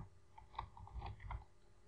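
Computer keyboard typing during a programming lesson, a short run of soft, close key taps in an uneven rhythm, alone without talk.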